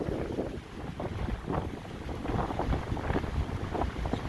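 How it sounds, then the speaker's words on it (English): Strong storm wind gusts roar continuously across the microphone in the Portland area, with winter snow on the ground, buffeting in uneven surges with no voices. "we got high winds"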